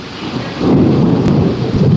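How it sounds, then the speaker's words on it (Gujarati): A low rumble of thunder rolls in over steady rainfall in Amreli during a storm, loud and close, with the downpour hissing throughout. "અમરેલીમાં ધોધમાર વરસાદ છે વીજળીના ધડાકા સાથે"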